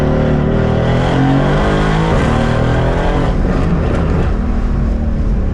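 A Mercedes-AMG C63s with a muffler delete roars loudly and steadily from its turbo engine, a dense, throaty drone with a rising pitch sweep, heard from inside during a ride along.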